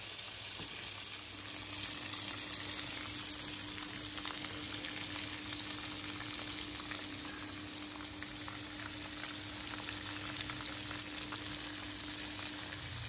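Chicken strips, just flipped, fry in hot oil with a dense, even crackling sizzle that holds steady throughout at moderate volume, and no one speaks.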